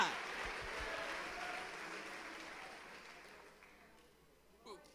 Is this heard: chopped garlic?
no